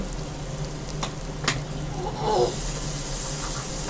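Spices such as turmeric and coriander powder sizzle steadily in a hot pan while being stirred, with a couple of brief scraping clicks and a short louder stir burst partway through.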